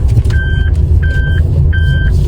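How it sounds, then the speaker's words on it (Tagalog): A car reversing into a parking spot in Japan sounds three evenly spaced electronic beeps, each lasting about a third of a second, loud and close over a low rumbling engine. "Magpa-parking muna kami ng sasakyan mga kigwahers"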